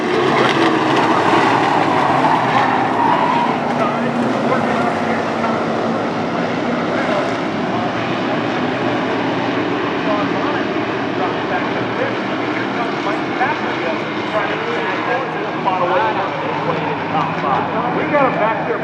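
Race cars roaring side by side at Stafford Speedway, a short oval track, in a dense, loud, continuous engine wash from a packed field, with a commentator talking over it throughout.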